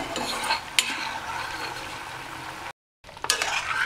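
Drumstick leaves frying in homemade buffalo ghee are stirred in a pan, a steady close sizzle with a few sharp spoon-on-pan clicks, cut by a brief silent gap near the end before the sizzling resumes.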